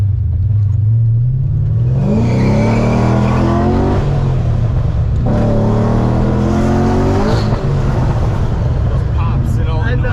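LS V8-swapped Infiniti G35 revving hard from inside the car, a loud deep engine note climbing and falling through two pulls, with people talking over it.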